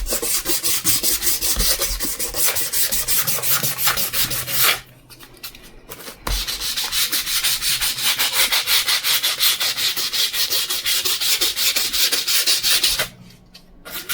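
Steady, continuous sanding across the surface of a police-themed wooden resin table, close and loud, with two brief pauses where the sander stops before resuming; no talking.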